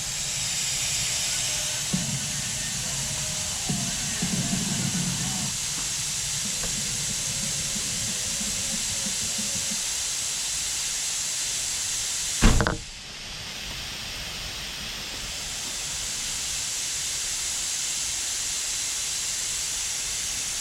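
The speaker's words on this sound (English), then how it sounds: "If I flip this valve, it's going to go ahead and start airing down both tires at once." Compressed air hisses steadily out of vehicle tires as a Morrflate multi-tire system airs down two tires at once, with a sharp valve burst partway through and a strong, continuous rushing sound throughout.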